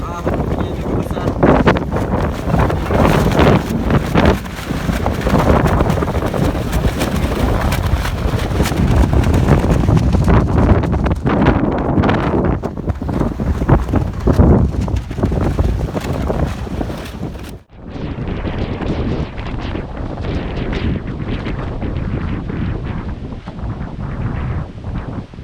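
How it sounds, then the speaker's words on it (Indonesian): Strong wind buffets the microphone at a boat camp, roaring continuously with gusty surges and a brief drop near the end, while a voice talks underneath. "jadi ini anginnya kencang"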